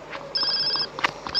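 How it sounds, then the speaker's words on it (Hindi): A phone rings in-game in GTA San Andreas, a bright repeating electronic ringtone with several short bursts over a faint game background. "फोन आया किसी का।"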